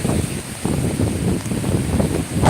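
Gusty wind rumbles across the microphone while choppy sea surges underneath during a rainstorm at Salerno, a steady stormy roar without talking.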